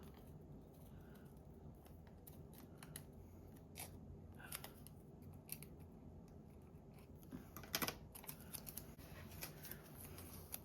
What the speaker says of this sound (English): I'm gonna cut the leaves off